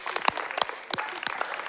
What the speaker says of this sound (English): this side was really into it, and this side was like kind of clapping